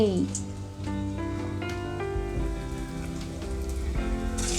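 Mutton kola urundai (kofta balls) frying in hot oil, a continuous bright crackling sizzle heard close under a loud humming tone, with some talk mixed in.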